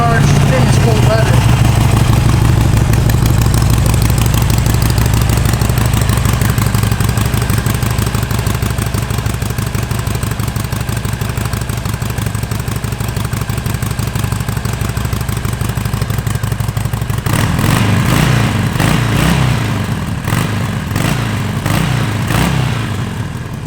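A 2012 Harley-Davidson 883 Sportster with 9,000 miles, a weak battery and cold weather, runs at a steady loping idle close by. Near the end a louder clattering burst cuts in.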